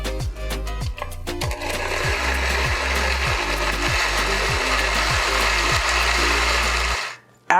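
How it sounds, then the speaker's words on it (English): A countertop blender whirs steadily through hot sauce ingredients, a loud continuous motor drone with a rhythmic chopping pulse, running alone until it stops abruptly near the end. "put the lid on and blend it until it's a nice smooth consistency"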